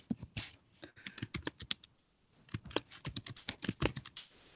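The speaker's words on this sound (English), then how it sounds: "It's probably me typing so loudly." Loud typing on a computer keyboard during a riverfront commission meeting, close and alone, in irregular bursts of rapid clacking keystrokes with a brief pause midway.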